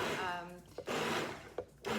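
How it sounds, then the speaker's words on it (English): An immersion blender whirs through marinara sauce as oil is drizzled in, a steady close motor drone with two brief dips in pitch and a voice faintly present. "use the immersion blender to blend in the oil little by little"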